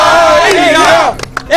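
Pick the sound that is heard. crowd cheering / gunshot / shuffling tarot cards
crowd cheering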